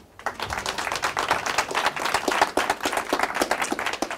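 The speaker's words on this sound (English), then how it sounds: "can I have a warm round of applause for Julie Macc?" An audience gives a warm round of applause for Julie Macc, a speaker on restoring credit scores: dense, lively clapping from a smallish crowd that starts almost at once and keeps up steadily, close and fairly loud, with no voices over it.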